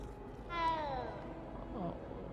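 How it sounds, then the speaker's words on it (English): A cat meows while being petted in the video game Hogwarts Legacy, a single drawn-out mew rising and falling over soft game ambience, fairly close and clear. "Listen, we're petting a cat."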